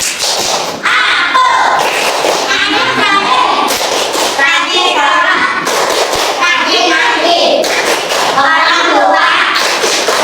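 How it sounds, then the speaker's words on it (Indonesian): An Indonesian classroom claps out the rhythmic 'tepuk anak soleh' chant, loud patterned bursts of hand claps close by, with children's voices chanting along between the clap groups. "kita tepuk anak soleh dulu"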